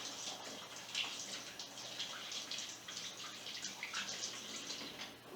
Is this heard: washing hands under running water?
yes